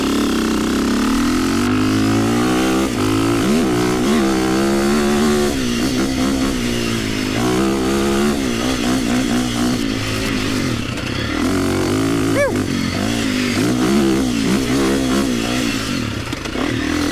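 A custom KTM 350 EXC-F enduro race-build motorcycle ridden continuously, its engine droning loud and close with repeated revving rises and falls, plus occasional clattering and scraping.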